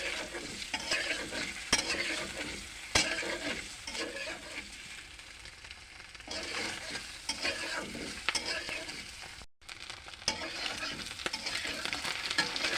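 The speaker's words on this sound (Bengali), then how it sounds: "ডিমগুলো হালকা ভাজা হয়ে গেছে" Eggs lightly frying in a pan give a steady, close hiss and sizzle, with irregular scraping stirs throughout and one brief dropout near the end; no voices are heard.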